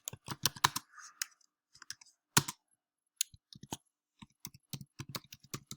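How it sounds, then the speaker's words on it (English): Computer keyboard typing while entering a business name into a website setup form, heard as irregular bursts of close, crisp key clicks with short pauses between words, no voices. "you type any kind of business or word"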